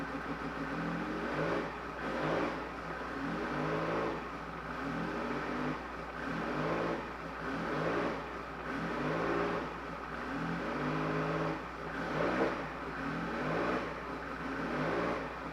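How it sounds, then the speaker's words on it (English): A Porsche GT1 race car engine idles and revs in a steady rhythm, with repeated rising surges that pulse every second or two. The engine sounds close and loud, running slightly rough, and no one speaks. "Now, if you notice, she runs a little rough when I rev her up."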